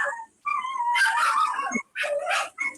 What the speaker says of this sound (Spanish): Parece que son perros que están llorando.